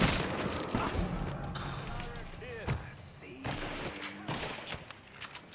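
Gunfire in the Mafia III video game, several loud bursts and single shots cracking over a busy game soundscape, with a person talking through parts of it.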